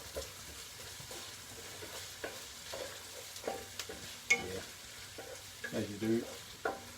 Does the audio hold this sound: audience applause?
no